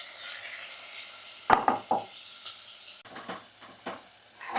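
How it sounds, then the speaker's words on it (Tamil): Tomatoes being sautéed in a pan with green chili, garlic, ginger and onion: a low sizzle beneath a few sharp spatula scrapes and stirring strokes, close and clear, with no talk. "இங்கே வந்து நம்ம அரிசி பருப்பு சாப்பாட்டுக்கு தக்காளியும் சேர்த்து வதக்கிட்டேன்"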